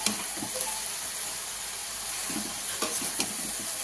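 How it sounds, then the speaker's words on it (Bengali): Water lily stems (shapla) are stirred and fried in a pan, giving a continuous wet sizzle with scraping spatula strokes and a few soft knocks. "এইভাবে এখন নাড়াচাড়া করে ভাজতে থাকবে"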